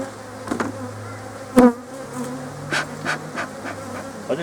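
Honeybees buzzing at an open nucleus hive during queen rearing, a continuous low hum with several louder individual bees passing close by.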